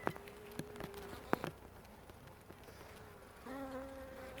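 Honey bees buzzing around a hive frame, several close individual buzzes passing by with steady tones, fairly faint against outdoor background.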